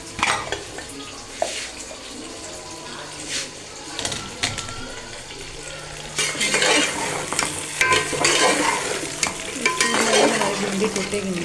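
Okra (bhindi) sizzles in a pan, stirred with a spoon, the frying swelling louder and busier in the second half amid clinks of utensil on metal, while someone talks over it.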